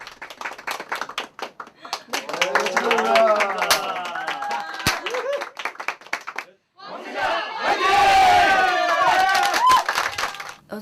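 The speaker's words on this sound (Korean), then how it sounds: "쏟아지는 진심 어린 칭찬의 박수" Actors clap and cheer for a musical's writer at a small backstage celebration party, close handclaps with excited shouting and chatter, a pause midway, then a louder second burst of cheering voices.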